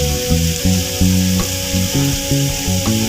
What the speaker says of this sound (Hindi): अब हमें इन सब चीज़ों को अच्छे से फ्राई कर लेना है।